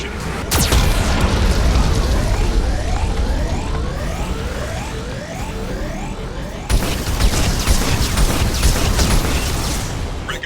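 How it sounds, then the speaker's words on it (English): A Geth cannon fires in Mass Effect 2, filling the scene with loud, continuous booming blasts and rumbling explosions, with a sharp new burst midway and swooping sweeps of combat sound throughout. "Warning, Geth cannon is locking on our location."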